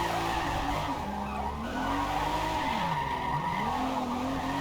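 A car drifts in Forza Motorsport with a long, continuous tire squeal that wavers in pitch as it slides, under a steady engine drone, loud and close throughout.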